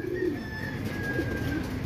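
Racing pigeons coo in low, throaty, repeated calls at close range, the soft rolling coos overlapping one another with no speech.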